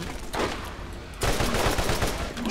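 Gunfire in the video game Borderlands crackles as a dense, loud burst of rapid shots, stepping up sharply in intensity partway through.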